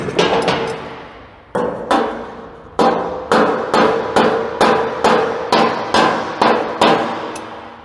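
A hammer taps on metal being worked and welded, a series of about a dozen loud ringing strikes at a steady, slightly uneven rhythm, each decaying briefly.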